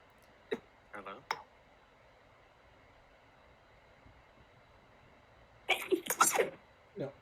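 Someone sneezes in a quiet room during a tabletop game session: small clicks and sniffs at first, then a sudden burst of sneezing near the end, close and fairly loud.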